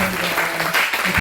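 A church congregation applauds, a steady, dense patter of clapping that fills the short stretch at even loudness, with faint voices mixed underneath.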